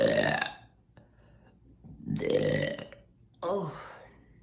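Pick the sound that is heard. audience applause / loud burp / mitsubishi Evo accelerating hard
loud burp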